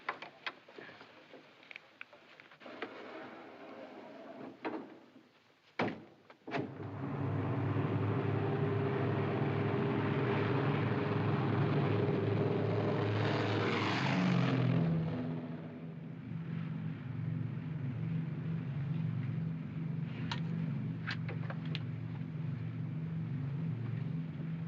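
Steady propeller-engine drone of an airliner in flight in a 1952 drama, a loud, continuous low hum that settles into a steady tone after a brief pause, with no talking over it.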